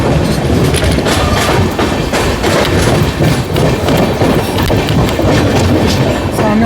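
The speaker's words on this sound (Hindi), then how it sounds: "सामने से लगता है कि कुछ ट्रेन आ रही है।" An oncoming train roars past during a journey aboard an Amrit Bharat Express from Govindpuri to New Delhi, with a loud, dense, continuous rumble and rapid clickety-clack of wheels on rail joints heard up close.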